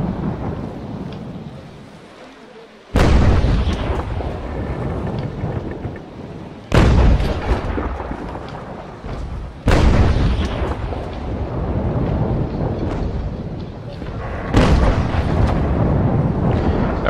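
Heavy ship cannon broadsides boom in the naval battle game Naval Action, four or five loud sudden blasts spaced a few seconds apart, each followed by a long rumbling roar that fills the gaps.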